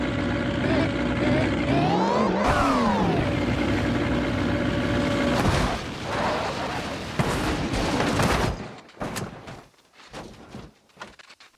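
A Chevrolet COPO Camaro accelerates hard in BeamNG Drive, its engine note rising and sweeping through gear changes, loud and sustained for several seconds before cutting off into scattered impacts and clatter.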